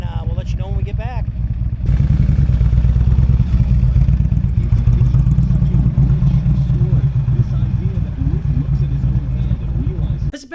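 A Harley-Davidson motorcycle rides after its noise was fixed, the engine loud and steady with a rumbling low drone and some clatter, starting after a brief quieter stretch and continuing throughout.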